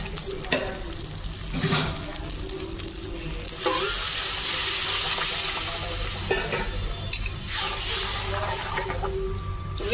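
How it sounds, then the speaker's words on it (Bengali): Water poured into frying spice masala in a pan, a burst of loud hissing sizzle erupting mid-way over the ongoing frying crackle and stirring, then settling back to a steady bubbling simmer. "এইবারে জল অ্যাড করে দেব।"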